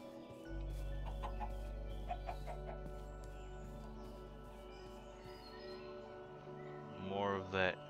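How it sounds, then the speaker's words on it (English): Chickens clucking in a modded Minecraft world, several short clucks over a steady low ambient hum, with a brief louder squawking call near the end; no one talks over it. "Chickens."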